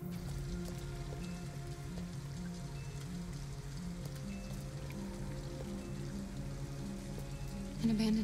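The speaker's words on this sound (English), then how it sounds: "At least we'd be out of the rain." Steady rain pattering on surfaces in the video game Detroit: Become Human, a continuous even hiss with a low droning hum beneath and a brief louder bump near the end.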